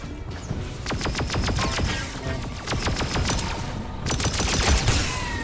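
Blaster shots in the VR game Star Wars: Tales from the Galaxy's Edge, sharp rapid zaps fired in quick strings over a dense, noisy battle background, loud and continuous with short pauses.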